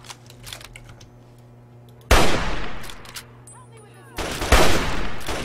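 Gunfire in the video game Fallout 3, a loud burst of broadband shots starting near two seconds, then a second sharp volley after four seconds, with faint clicks and low hum between the bursts.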